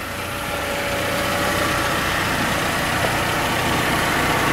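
A Saturn SW2 car engine idling after a coolant top-up, a steady, even low hum that holds constant with no talking.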